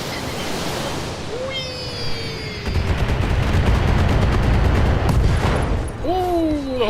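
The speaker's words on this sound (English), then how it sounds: "the whole thing goes kaboom" An enemy mech explodes in the video game Battletech. A sustained roar of blast and rumbling debris builds mid-way, with a rapid crackling burst and falling synthetic tones around it.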